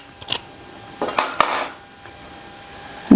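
Crispy fried potato bites clatter and crunch in a few sharp, close bursts as one is checked, with short quiet gaps between and a final knock at the end.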